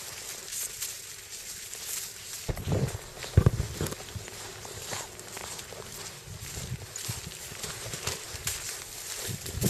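Horse hooves walking on a road, a faint uneven clopping under outdoor background noise, with a few louder thuds near the middle.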